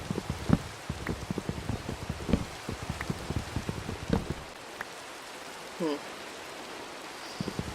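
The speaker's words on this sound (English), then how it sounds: "Rain, so much like the area where I live" Rain falls steadily in the Minecraft video game, a soft continuous patter with scattered louder drops, and a brief faint pause partway through.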